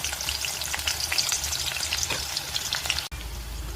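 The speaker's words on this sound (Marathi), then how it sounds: "तेल तापलं, आपण टाकूया आता कांदा" Chopped onion dropped into hot oil in a home kitchen pan, a close, steady crackling sizzle with stirring scrapes and a brief cut near the end before the sizzle resumes.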